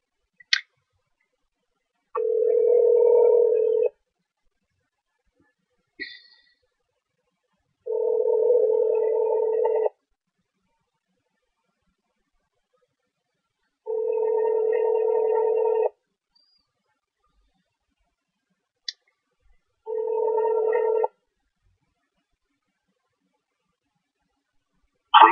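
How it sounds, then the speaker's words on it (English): VoIP call on a computer: a short burst of dialing tones, then repeated telephone ringback tones in steady on-off pulses, with brief clicks between them and no talk. "we're going to dial 617-981-4636. Then we hit call."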